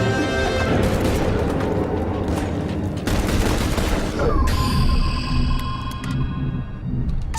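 Squad gunfire during a firefight in The Bureau: XCOM Declassified, dense overlapping shots and booms, loud and continuous, with sci-fi weapon tones ringing out near the end.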